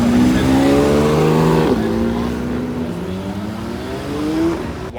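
A Porsche GT3 RS engine revs loudly and close at a crowded street cruise, its pitch climbing and dropping in a couple of throttle blips amid background crowd noise.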